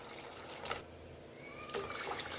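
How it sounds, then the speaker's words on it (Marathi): Water trickles and pours steadily into a pot of ground sesame and garlic for tilachi barbat, for a couple of seconds with faint splashing, close by, with no talking. "हे अजून थोडं पाणी टाकून घेऊ"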